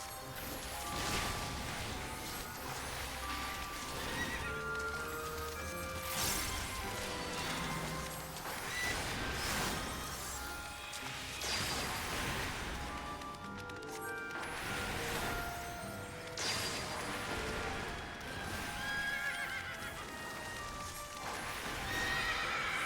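Horse neighing and clip-clopping hooves from the video game Final Fantasy XIV, heard as repeated whinnies over steady hoof beats inside a dense game soundscape with some mechanical clatter.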